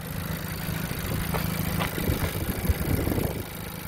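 A 2020 Honda Civic Si engine idles with a steady, smooth low hum, close and continuous, with a few faint clicks and knocks near the end.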